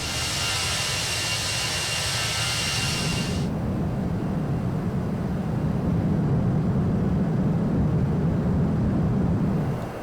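Engines of a Toliss A319 airliner climbing out after takeoff from San Francisco in X-Plane 11, a steady broad roar with a low drone, a bright hiss cutting off early and the rumble swelling slightly.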